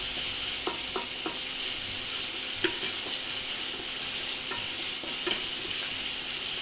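Onions and chicken fry in a pan for a spiced chicken dish, a constant bright sizzle with a few soft clicks and stirring scrapes scattered through it.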